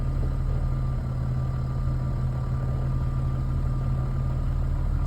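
A Honda Civic EK with a swapped J-series engine idles steadily close by, a constant low hum with a faint high whine and no voices.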